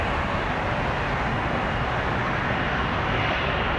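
Airbus A330 airliner bound for Paris at Toronto Pearson airport, a loud, steady jet-engine roar filling the whole clip as broadband noise with no voices.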